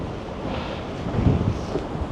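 Strong wind gusts roar across the microphone at a Scottish castle, a dull, buffeting rumble that swells toward the middle, with no voices.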